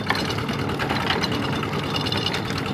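A walk-behind farm tractor engine chugs steadily and loudly at close range, a continuous mechanical rattle with no pauses.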